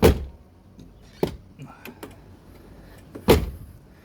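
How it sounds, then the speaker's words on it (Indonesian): An Isuzu Panther door fitted with a new rubber seal swings shut with a loud, close thunk, then quieter clicks and rustles follow before a second firm slam near the end. "Jadi tutup pintunya."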